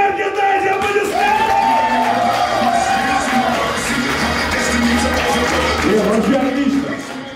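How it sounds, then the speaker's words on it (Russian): A live audience at a magic show cheers, whoops and applauds loudly and continuously, with shouting voices mixed into a dense crowd roar throughout. "мне нужна ваша энергия, дайте аплодисменты!"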